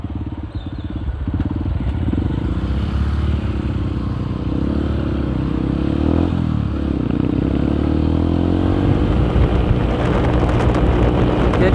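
Honda CB motorcycle with a Nofifumi aftermarket exhaust, ridden on a road, gives a steady loud engine drone with shifting pitch and heavy wind buffeting throughout.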